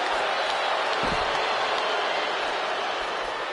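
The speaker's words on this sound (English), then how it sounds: "listen to this capacity crowd" An arena capacity crowd roars in the wrestling video game WWE 2K26, a broad, sustained wash of cheering and noise at steady loudness, with no distinct speech.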